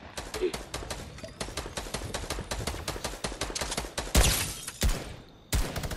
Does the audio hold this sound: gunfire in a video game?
yes